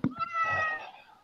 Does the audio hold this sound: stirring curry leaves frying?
no